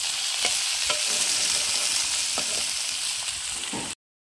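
Onion and tomato masala fries in a pan with a loud, dense sizzle and occasional spoon scrapes, then cuts off abruptly.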